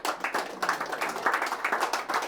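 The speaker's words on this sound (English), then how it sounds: "Give a round of applause as we wrap up" A small studio audience at a basketball talk show gives a short round of clapping, with a handful of distinct, fairly close hand claps in an uneven rhythm, moderately quiet and brief.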